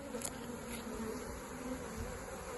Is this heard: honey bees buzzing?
yes